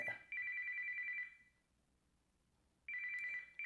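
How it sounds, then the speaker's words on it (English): A telephone ringing in two bursts, each a bright electronic trill about a second long with a pause between, fairly quiet and with no voices. "that phone you hear ringing right now"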